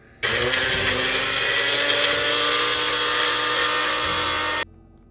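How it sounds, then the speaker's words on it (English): A blender whirs loudly as it purees onions for chicken noodle soup, switching on abruptly, holding a steady high-pitched grinding roar for about four seconds, then cutting off sharply. "let's blend up these onions"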